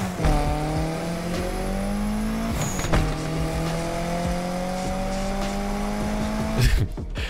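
A car in the Need for Speed Unbound video game drives along a coastal road, its engine droning steadily with rising pitch as it accelerates, a brief gear shift near three seconds and a tire-squeal burst near the end.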